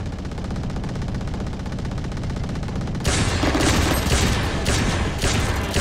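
Loud bursts of automatic gunfire from a video game shooter break in about halfway through, with rapid repeated volleys over a steady background hum and no talking.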